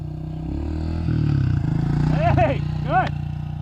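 A dirt bike engine idles and pulls forward at low revs, running steadily underneath a person's close speech throughout.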